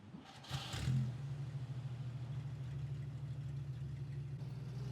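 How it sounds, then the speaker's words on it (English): A car pulls away from a motel, its engine rising briefly in a short rev before settling into a steady low drone that holds on as the vehicle moves off. "the car eased away from the motel"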